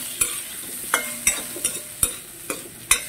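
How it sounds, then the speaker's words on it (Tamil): Onions and capsicum sizzle in hot oil in a pan, with a steady fry hiss broken by about seven sharp clinks and scrapes as the vegetables are tossed and stirred at close range. "அப்போ இதுக்கும் கொஞ்சம் வந்து எண்ணெய் விட்டுட்டு இதையும் டாஸ் பண்ணி"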